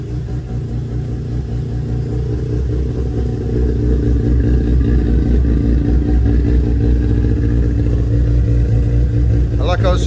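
A modified rotary engine in a Mazda RX-7 barn find idles loudly nearby with a rough, buzzing, uneven drone, holding steady throughout and rising slightly partway through.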